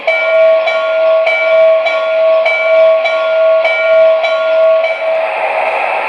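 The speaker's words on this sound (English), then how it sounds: "Here's the bell. This is my favorite sound effect out of the whistle and all the other sound effects" A bright, ringing bell on a model N&W 611 locomotive clangs steadily in a regular rhythm, about eight strikes, loud and close, with a sustained whistle-like tone underneath.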